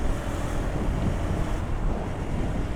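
A constant loud rush of wind roars over the microphone during a rainy night ride on a KTM Duke 200 motorcycle, a dense steady wash with no voices.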